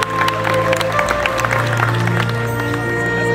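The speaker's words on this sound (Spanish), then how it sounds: "Fuerte el aplauso, que se oiga" A crowd at a quinceañera party claps and cheers loudly and steadily over festive music in a reverberant hall.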